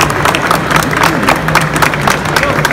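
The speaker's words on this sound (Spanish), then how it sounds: "para la cual pido un aplauso muy pero muy fuerte" A book fair crowd applauds Ingrid Miller with a steady, dense wash of clapping and crowd murmur that continues at a loud, even level.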